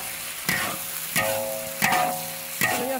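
Pork intestines, onion and chili cook in a wok with a continuous sizzle. A spatula scrapes through the food in four regular stirring strokes.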